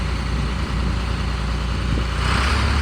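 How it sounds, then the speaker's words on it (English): A tractor engine idles with a steady low rumble as it is pulled out of a shop, swelling slightly louder toward the end. "he is pulling the tractor out."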